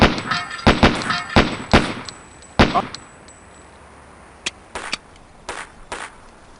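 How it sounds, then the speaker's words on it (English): Rapid gunshots ring against steel pepper popper targets in the MS-DOS game Police Quest: SWAT, a quick burst of sharp cracks with metallic pings, a pause, then a few more spaced shots. "Engage each of the 5 pepper poppers until they fall."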